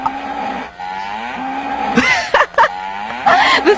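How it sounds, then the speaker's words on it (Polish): A cow moos in a long, drawn-out low call, loud and close, followed by a few shorter harsh bursts, with no speech over it. "przestraszyła się nasza krowa, że ją chcemy zjeść"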